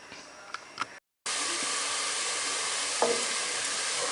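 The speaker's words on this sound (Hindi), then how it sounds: "गर्म करने के बाद इसमें मैं प्याज डालूँगा, उसको थोड़ा सा ब्राउन, हल्के ब्राउन होने तक" Onions fry in hot ghee with a steady, loud sizzle that follows a brief quieter stretch with a few light clinks and a short gap, then continues as a constant crackling hiss.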